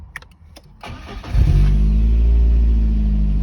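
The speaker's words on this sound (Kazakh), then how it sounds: "Көлігіміз оталды." A VAZ 2110 car engine is started by push-start button: a few faint clicks, then the starter cranks briefly and the engine catches, settling into a steady, loud idle.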